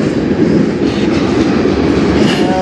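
A freight train with a distributed power unit locomotive rolls past at night in Fostoria, Ohio, close and loud, with steady wheel rumble and rhythmic clickety-clack of cars running continuously throughout.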